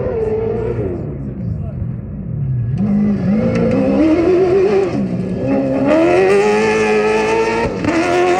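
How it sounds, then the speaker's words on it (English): Ford V8 Dakar Rally car roaring past at speed, a loud, continuous engine note that rises and falls as it revs, with a voice talking over it. "And then the Fords sound completely different because they're a V8."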